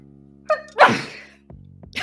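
One person lets out a single loud sneeze, a short sharp intake followed by a burst, alone and close to the microphone, with a brief voiced sound trailing after it.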